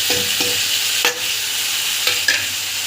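Spices, including chilli, turmeric and coriander powder, are stirred in a frying pan for a potato and banana-flower dish, a steady sizzle under a few distinct spatula knocks and scrapes.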